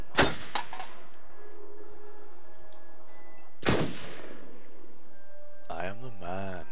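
Loud gunshots in the horror video game Until Dawn, two sharp blasts early on and another a few seconds later, with a voice talking at the end.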